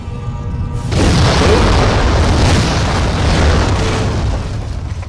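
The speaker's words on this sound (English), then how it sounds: "Watch the explosions happen." Bombing explosions in the video game Halo 4, one loud deep boom that swells into a sustained heavy rumble lasting several seconds, alone without talk.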